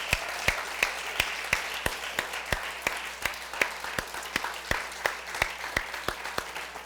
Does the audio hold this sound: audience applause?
yes